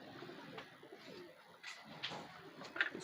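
A pigeon, a high-flyer breed, coos softly in a few faint, scattered low calls, with no one talking over them.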